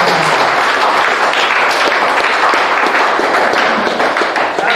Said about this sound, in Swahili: Asante, jipigie makofi kabisa.